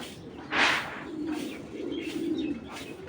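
A racing pigeon gives a soft, low cooing call up close, with a brief brighter flutter or chirp near the start and faint bird sounds around it.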